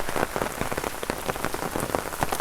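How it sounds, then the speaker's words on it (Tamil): Monsoon drizzle patters steadily in a Cauvery delta village during the northeast monsoon season, a close, even crackle of raindrops on surfaces with no talking. "மழை தூரிக்கிட்டே இருக்குது எப்போ பார்த்தாலும்."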